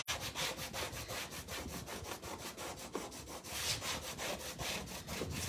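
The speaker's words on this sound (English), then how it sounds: "I am doing a good job of scraping up this paste" Rhythmic scraping of paste off a reusable surface, close and steady with repeated strokes throughout, no talking.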